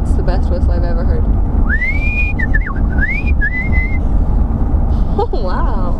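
A person whistles a short run of bright, sliding notes that swoop up and down for a couple of seconds, close and clear, set between stretches of conversation in a small room.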